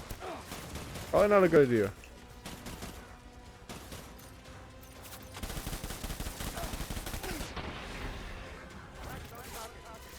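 Bursts of gunfire aimed at Cliff in Death Stranding, with rapid repeated shots and booming, fusillade-like volleys. The shots are loud and close and mix with a game soundtrack while someone talks over them.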